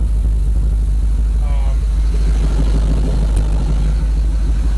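An LS engine in a Buick idles with a steady low rumble and slight unevenness, loud and close, while a brief chirp sounds partway through.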